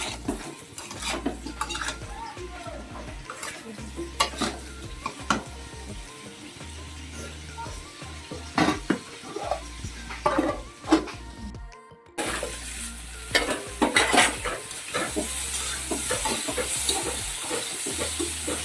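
A village-style rohu fish curry with papaya and turmeric is stirred in a pan, with scraping spoon strokes, clinks of metal and a soft bubbling undertone, all nearby and without talk.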